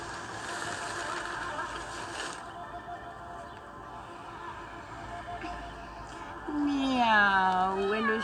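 A human voice imitates a cat's meow, one drawn-out wavering call near the end after a stretch of quiet room tone.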